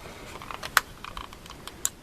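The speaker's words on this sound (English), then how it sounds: "we're going to put some of the tape runner right along here" Tape runner laying adhesive along a folded card flap, heard as a series of faint, soft clicks and brief scratchy ticks spread irregularly over a couple of seconds, with two sharper taps standing out.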